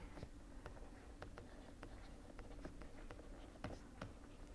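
Equations are written during a lecture, giving faint, close taps and strokes in an irregular rhythm over a quiet room with no talk.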